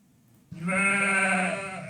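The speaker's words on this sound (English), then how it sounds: "Wow, look at all the sheep." A single sheep bleats in the Lords of the Realm strategy game: one loud, drawn-out, wavering bleat that begins about halfway in after near silence and carries on alone to the end.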